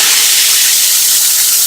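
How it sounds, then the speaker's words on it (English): An espresso machine's steam arm blasts out steam in a loud, continuous hiss, very close and steady, with no one speaking. "open the steam arm for around 20 seconds"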